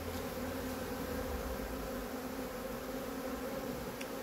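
A steady, dense buzzing of a honey bee swarm being settled into a hive hums continuously throughout, a low droning swarm with no pauses.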